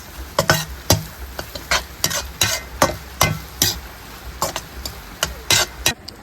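Coca-Cola egg fried rice being stirred in a pan while cooking outdoors in rain, a series of loud irregular scraping and clattering strokes over a soft hiss, each stroke close and distinct.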